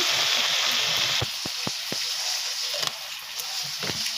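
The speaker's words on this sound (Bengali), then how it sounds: "অল্প লবণ দিয়ে দিচ্ছি আর অল্প হলুদ দিয়ে এটা লাল লাল করে ভেজে নেব" Spiced food frying with salt and turmeric for a banana-flower and chana dal fritter curry, a continuous close sizzle with a few sharp stirring clacks and scrapes, no talk.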